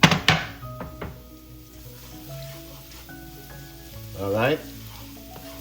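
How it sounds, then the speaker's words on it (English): Garlic sautéing in olive oil in a pan, a steady close sizzle with stirring clatter and utensil knocks, a louder burst of activity toward the end, and a brief spoken remark near the start. "Start sauteing our garlic here. Let's get it browned a bit."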